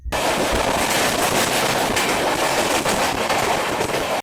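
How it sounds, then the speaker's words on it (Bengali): Passenger train leaving Kolkata station, a loud, steady roar of wheels and rushing air heard close from on board, with no pauses or distinct events. "নির্ধারিত টাইমে ট্রেনটা ছেড়ে দিল কলকাতা স্টেশন"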